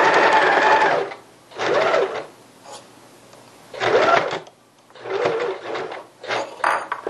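A sewing machine stitches curtain fabric in several loud, close bursts of rapid whirring, separated by short pauses.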